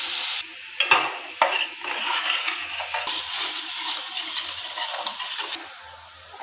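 Dried chilies, cumin and coriander frying and being stirred in a pan in a home kitchen, giving a steady close sizzle with scraping stirs and a few louder clatters of the spoon throughout.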